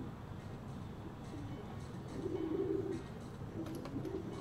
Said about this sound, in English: This carrier frequency pigeon possesses top secret information.